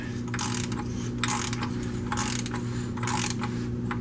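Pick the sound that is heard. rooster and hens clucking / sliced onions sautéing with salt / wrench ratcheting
wrench ratcheting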